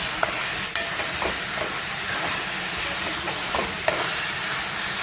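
Onions and tomatoes frying in a pan over low heat, a steady dense sizzle and hiss with occasional scraping clicks from tongs stirring, close and continuous with no talk.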